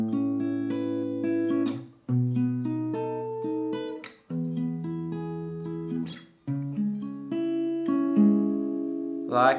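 Fingerpicked acoustic guitar playing the outro pattern of an interlude, arpeggiated notes ringing in steady phrases with brief pauses between, close and clear with no talking.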